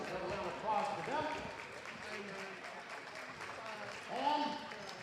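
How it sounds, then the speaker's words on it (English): A crowd gives a round of applause for the Bobcats at a boys' competition: steady, dense clapping throughout, with cheering voices swelling near the start and again near the end. "another round of applause for them"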